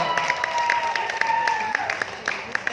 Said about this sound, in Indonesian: boleh dong tepuk tangan yang meriah sekali lagi untuk Mavel.